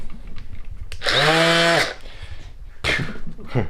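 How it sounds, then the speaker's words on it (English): A cordless random orbit sander in a small workshop runs in one short burst of under a second, a loud rising and falling whine, followed by quieter handling noise and a brief clatter. "Random orbiting sander, not oscillating."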